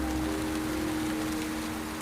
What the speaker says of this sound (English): Lots of rain, but hopefully we can get through it